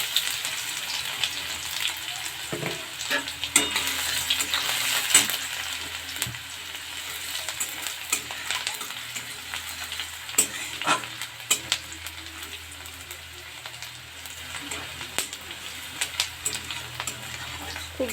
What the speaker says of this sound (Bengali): খুব ভালোভাবে আমরা খড়িয়ে নেব।